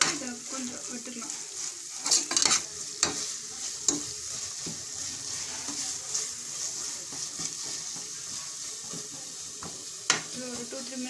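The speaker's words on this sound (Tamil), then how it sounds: "இது ஒரு 2-3 மினிட்ஸ் நல்லா வதங்கட்டும்" Tomatoes and spices sauté in a pan for menthya pulav, giving a steady close sizzle with scattered scraping clicks and louder knocks of a spoon stirring against the pan, with no talking.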